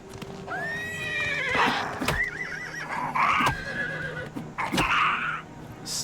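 Horse neighing in the video game Oblivion Remastered, loud drawn-out whinnies and snorts repeated several times with clip-clopping hooves and thuds of combat with a goblin, close and clear with no talk.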